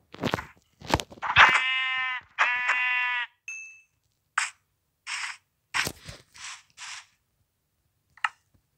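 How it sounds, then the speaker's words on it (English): Sheep bleats in the video game Minecraft: two sustained, strongly pitched bleats early on, then a scattering of shorter, quieter bleats and clicks with gaps of silence between them. "Another sheep."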